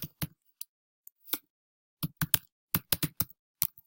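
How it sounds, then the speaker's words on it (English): Someone types login details on a computer keyboard: crisp, close key clicks, a few scattered at first, then a quicker run of taps after a short pause. "let me just type in my login"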